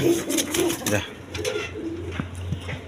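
Gola pigeons coo softly on a farm in low, repeated throaty calls, close by, partly under a person talking.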